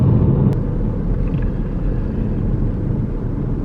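A little tiny car cruising along an open road, its engine and tyre rumble loud and steady from inside the cabin, with a brief click near the start and no one talking.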